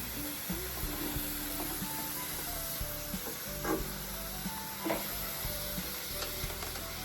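Salmon pieces drop into a hot pot for okra and eggplant soup, setting off a steady loud sizzle with intermittent stirring scrapes and clinks, no talking.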